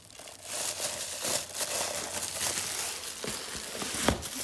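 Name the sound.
plastic bag and cardboard packaging crinkling while unboxing mugs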